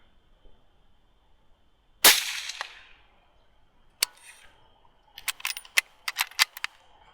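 A single sharp rifle shot rings out during a spot-and-stalk nilgai hunt in thick Texas grass, a loud crack with a fading tail, followed by quieter clicks and rattles of handling a few seconds later.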